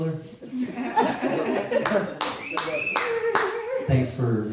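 Applause from a comedy club audience at a stand-up show, scattered claps mixed with chuckles and laughter, moderately close, while someone talks over it.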